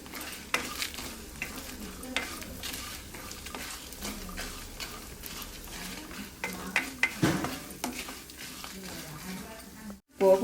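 Peanuts, coriander seeds, cumin, urad dal and dried red chillies fry and get stirred in hot oil, giving a steady close sizzle with scraping stir strokes and a few clinks of a pan, with a voice speaking over parts of it.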